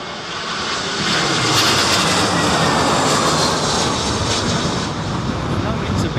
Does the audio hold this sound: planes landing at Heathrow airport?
yes